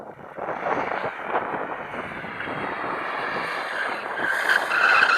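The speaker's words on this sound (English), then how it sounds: "Now, if there's one thing BMWs can do, it's drift." BMW M2 drifting with tyres skidding, a sustained loud squeal of rubber over a roaring engine that holds steady and rises slightly toward the end.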